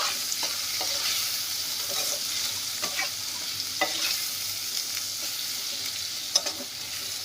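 Onion and tomato fry with turmeric in a pan over low to medium heat for a chicken liver dish, giving a continuous quiet hiss and sizzle with occasional light spoon scrapes and clinks, close up and steady.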